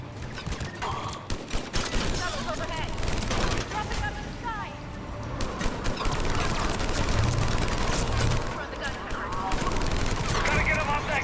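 An enemy mounted gun in Mass Effect 3 fires sustained rapid bursts across a battlefield, a dense rattle of gunfire running throughout with voices speaking over the combat.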